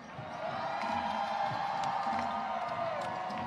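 An arena crowd at a basketball game cheering and whooping, a broad sustained roar that swells in early and holds steady, with scattered shouts on top.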